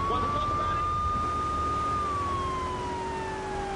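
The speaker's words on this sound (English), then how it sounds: "To turn the siren on, everybody just gets the hell out the way." Wailing police car siren from the video game GTA, a steady sustained tone that holds level then slowly drops in pitch, loud and close over a rumbling traffic background.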